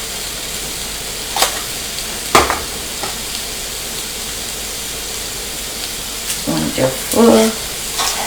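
Sandwich thins with butter grill in a pan with a steady, even sizzle, punctuated by a few light clinks and scrapes; a voice briefly speaks over it.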